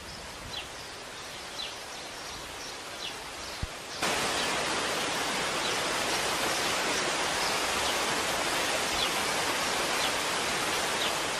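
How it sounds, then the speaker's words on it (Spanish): Waterfall in the gardens of a Galician pazo, fed by a river crossing the estate, a broad steady roar of falling water that jumps abruptly louder and fuller partway through, with faint bird chirps in the quieter opening. "Pocos jardines del mundo cuentan con su propia cascada."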